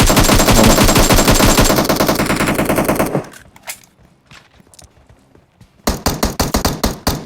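Rapid automatic gunfire from PUBG Mobile, loud dense bursts for about three seconds, then a lull of scattered faint shots before another burst of sharp, closely spaced shots.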